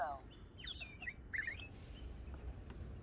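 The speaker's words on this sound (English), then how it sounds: "Sparrow." In a video game, several quick, high chirps from a sparrow come in short bursts over a low background rumble, fairly close.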